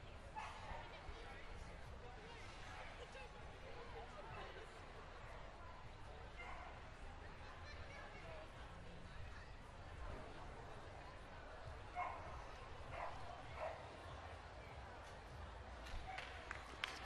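Dogs bark and yip at intervals, some near and some distant, within steady crowd noise at a 2015 Purina Pro Plan utility group dog show featuring breeds such as the Alaskan Malamute.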